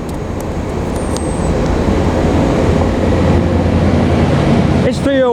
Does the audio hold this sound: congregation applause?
no